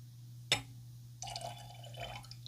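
A single sharp drip or small splash of liquid, followed by a soft trickle of 15 millilitres of water pouring into a glass of Old Grand-Dad 114 bourbon, close and quiet.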